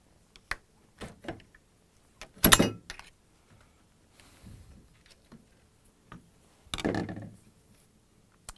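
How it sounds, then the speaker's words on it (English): A flat blade screwdriver pries up the upper left door hinge on a Samsung refrigerator: a few separate metallic clicks and scraping bursts, with two louder grinding pops spaced several seconds apart, close and otherwise quiet. "I'm going to use the same flat blade screwdriver. Going to pry up the hinge."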